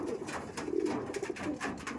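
A Madrasi pigeon for sale, one of the long-flying birds, gives a close run of soft low rolling coos in repeated phrases, with no one speaking.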